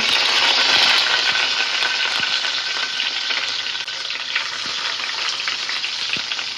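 Chopped onion and garlic fry as a tempering for masoor lentil dal, a loud, continuous hiss of sizzling oil with faint stirring ticks and no talking.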